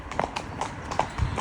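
Horses' hooves clip-clop in a steady, close rhythm on a main road during a hack, with crisp, even strikes.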